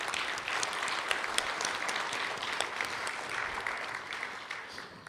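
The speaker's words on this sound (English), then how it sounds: "If we can give them a little round of applause." Audience at the Treaty 3 Awards Banquet applauds event sponsors with steady, dense clapping from a sizable crowd, sustained evenly for several seconds before tapering slightly at the end.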